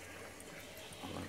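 Water steadily poured into a backyard fish pond, a soft continuous splashing and trickle at low level, fairly close, with no voices over it.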